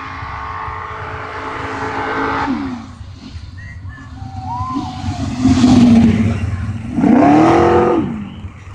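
Drag racing cars accelerating at a strip in Titusville, Florida: loud engine roars rise in pitch through the gears in two separate bursts, heard from nearby against a constant background rumble.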